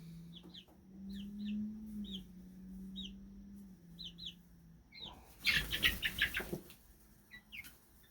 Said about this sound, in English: So these are supposed to be our egg laying flock.